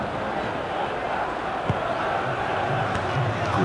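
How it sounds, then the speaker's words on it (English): A dense, angry football crowd roars and jeers in the FIFA 2005 PC game during a Kilmarnock versus Aberdeen match, a steady loud wall of voices with a commentator speaking over it. "A section of the crowd sounding very angry here"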